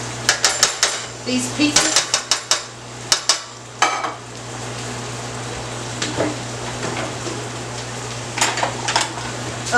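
A metal utensil scrapes leftover breading pieces from a pan into a pot of stove-top beef stew, with a quick run of sharp clanks and scrapes, then scattered later knocks over a steady kitchen hum and brief speech.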